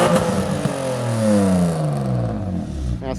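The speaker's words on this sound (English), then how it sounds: "Rev it up properly then." A Mercedes car engine revs up hard and loud close by, its pitch climbing and falling in repeated surges over a steady rumble, with no talk over it.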